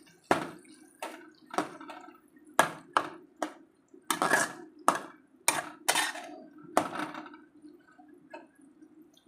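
Cluster beans with chilli powder and salt being stirred in a pan, a series of distinct metallic scrapes and clinks of a spoon against the pan in an irregular rhythm, close and fairly loud, with no talking.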